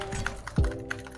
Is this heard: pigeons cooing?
no